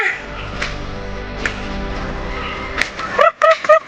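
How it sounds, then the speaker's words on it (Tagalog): Chickens cluck and squawk nearby over a low background rumble, ending in a quick burst of sharp, repeated clucking calls. "Ano yung manok?"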